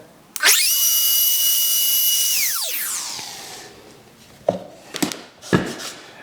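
Wood router spinning up to a loud high whine, cutting a very shallow pass in a wooden guitar amp cabinet, then winding down, followed by a few sharp knocks and handling clunks.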